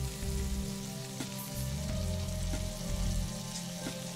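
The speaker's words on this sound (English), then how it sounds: "In a pan, adding some vegetable oil and fry the garlic." Minced garlic frying in vegetable oil in a pan, a steady dense sizzle with faint crackles running throughout at a constant close level.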